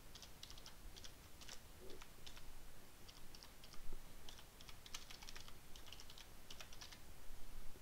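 Faint, quick keystrokes on a computer keyboard as a home page URL is typed, a steady patter of light clicks that runs throughout with no speech.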